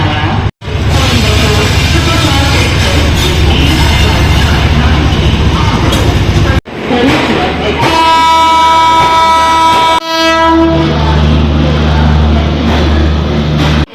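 A train passes a railway platform in a loud, close rush of rumbling and clattering wheels. Long horn blasts sound twice, broken by brief cuts, with no clear voices.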